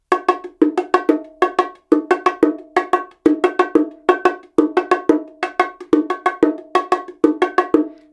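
A calypso groove on bongos, played at a slow tempo, repeats as a steady pattern of sharp, ringing hand strikes with quick double strokes, close and clear with no talk over it.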